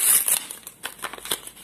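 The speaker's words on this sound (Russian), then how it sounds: "Давайте вскроем наш пакетик." A paper packet of petunia seeds is torn open, giving close, bright crinkles and crackles in quick, irregular bursts, fairly loud with no speech.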